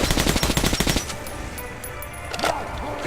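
Military guns in the game Metro 2033 Redux fire in a loud rapid automatic burst lasting about a second, then the shooting stops and quiet ambient noise remains with a few faint sounds.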